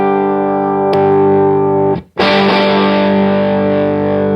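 An electric guitar through the left channel of a Granville AMD74 all-tube 20-watt amplifier, a loud, heavily distorted sustained chord, a sharp restrike, a brief cut to silence, then a fresh, thick, ringing chord.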